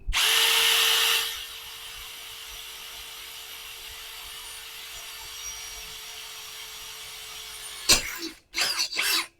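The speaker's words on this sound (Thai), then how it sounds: "มาลองเจาะเหล็กกันดูบ้างนะฮะ" A POLO PCB161A2 impact drill whines loudly as it bores into steel, running steadily for about a second before settling into a quieter motor hum, followed by a few sharp bursts near the end.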